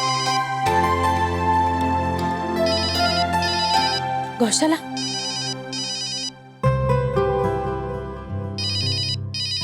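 A phone rings in a village household scene in a Hindi TV drama, its repeating electronic ring bursts sounding loudly under background music while someone speaks briefly.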